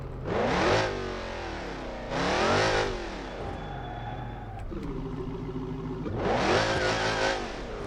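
A loud supercharged muscle-car engine in the video game BeamNG.drive revs hard in repeated bursts, surging and falling back to a rough, throaty idle between pulls.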